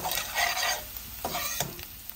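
Onions with beans, carrot and capsicum stir-fried in a pan for veg fried rice: a steady close sizzle with spoon scrapes and stirring strokes around the pan, no voices.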